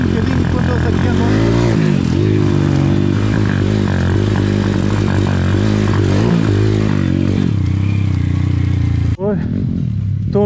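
Motorcycles ride and rev close by, with engine notes rising and falling in pitch before cutting off abruptly near the end.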